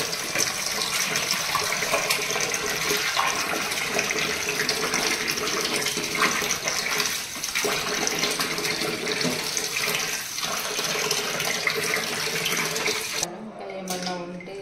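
Kitchen tap running steadily while fish pieces are washed by hand, a continuous close gush of water with soft splashing that cuts off near the end.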